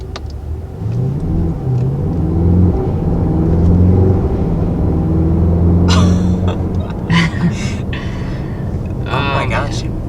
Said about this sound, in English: When it shifts gears, it sounds like it's whipping